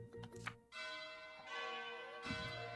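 A bell rings in the video game Game of Life 2 with several bright, resonant chime strikes that ring on and overlap, fairly faint and clean with no talk.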